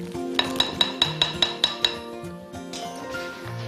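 Wooden spoon stirring stock and chopped marjoram in a pot, eight quick regular clinks against the pot in a row, then softer scraping and knocks, close up.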